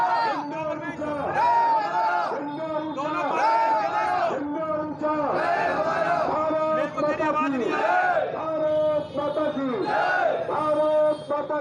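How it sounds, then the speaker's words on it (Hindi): A crowd of thousands at a Tiranga Yatra rally in Ballabhgarh chanting and shouting in loud, rhythmic surges of many voices, continuous and close throughout. "हजारों की संख्या में दिखाई दे रही यह भीड़ बल्लभगढ़ की है"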